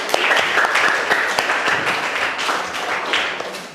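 Schoolchildren applauding in a classroom after a group presentation, a loud, scattered burst of many small hands clapping with a few sharper claps standing out.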